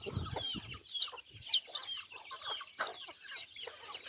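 Native chicken chicks cheeping and peeping in bursts of high chirps, several birds close by, with some clucking mixed in.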